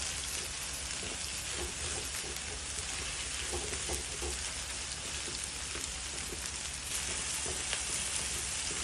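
Chickpeas sizzle and crackle steadily in a hot pan as they are stirred, a dense, continuous frying hiss close by with faint scraping, and no voices.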